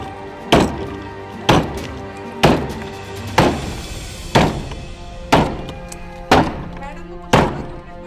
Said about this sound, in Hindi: कमरे नूं लगे ताले तोड़न दियां आवाज़ां